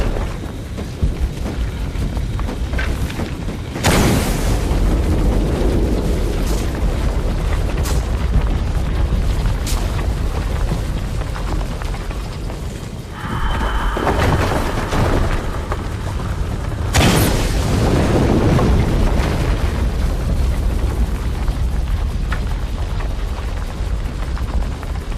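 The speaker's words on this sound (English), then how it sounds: "Another explosion would raise the platform." Deep explosions in Shadow of the Tomb Raider at the Forge, two heavy booms that burst loudly and roll off into rumbling decay amid game ambience.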